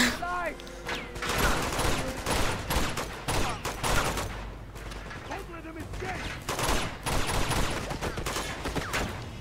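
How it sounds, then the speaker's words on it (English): Rapid bursts of gunfire in the video game Uncharted 2: Among Thieves, dense overlapping shots sustained throughout with a player's voice and laughter mixed in. "someone shooting from over there"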